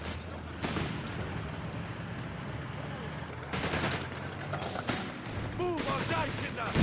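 Heavy machine gun fire in a Company of Heroes 3 match, Wehrmacht against US Forces: dense bursts and battle rumble layered with other explosions, loud and continuous, with voices speaking over it.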